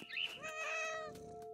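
A cat meows in the video game What Remains of Edith Finch, a single drawn-out, rising-then-falling meow, clear and close with no talk over it.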